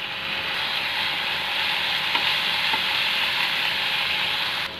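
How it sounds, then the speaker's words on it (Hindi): Mixed vegetables cooking in a pan with soy sauce as filling for chicken momos, making a loud, continuous close sizzle that holds steady throughout with no talking. "सब्जियों को थोड़ी देर पकाएंगे, बस 2-3 मिनट। अब इसमें डाल देंगे 1 चम्मच सोया सॉस।"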